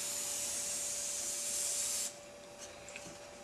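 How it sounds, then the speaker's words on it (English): Olive oil is sprayed from a can onto a baking pan in a home kitchen, making a steady hissing spray for about two seconds before it stops, followed by a few faint clicks. "what you want to do is to spray the pan"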